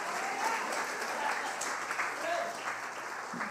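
A church congregation claps for a preacher with a continuous, moderate wash of applause, even and unbroken, with faint voices mixed in.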